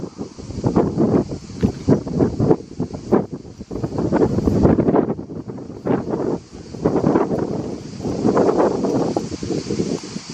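Strong Mistral wind buffets the microphone of someone cycling, roaring in loud, uneven gusts that rise and fall continuously with a faint steady whine behind them.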